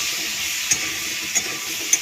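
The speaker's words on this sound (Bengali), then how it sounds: "একটু তেল দিয়ে পটল আলুটা ভালো করে লাল লাল করে ভেজে নেব" Potato and pointed gourd pieces frying in a little oil with salt and turmeric, a steady close sizzle broken by three sharp spatula taps against the pan, no talking.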